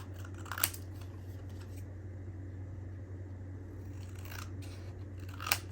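Scissors snip through a craft piece to trim its sides, with a few crisp, close cuts spread across the clip over a low, steady background hum.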